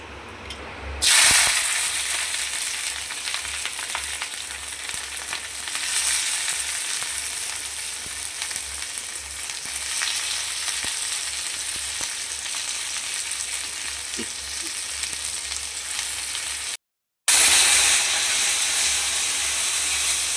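Peanuts fry in hot oil in a home kitchen pan while chutney is being made, giving a continuous close sizzle and hiss with faint stirring, steady over a long stretch with one brief cut.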